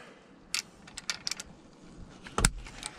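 Car key for a Ford Focus being pulled from the steering column, a quick series of small metallic jangles and clicks, close and fairly quiet, ending in a sharper clatter.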